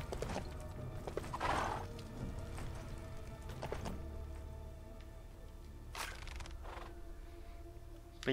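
Video-game horse from Lego Lord of the Rings: a quiet run of hoof clip-clops with a whinny and a few sharp clacks, faint and mostly alone over a low background.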